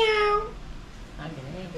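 A person voices a drawn-out meow imitating a cat, followed by a bit of quiet speech.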